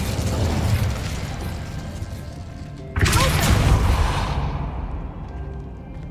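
The Incendio fire spell in Hogwarts Legacy: a loud whooshing burst of flame erupts midway over a continuous rumbling roar, then slowly fades.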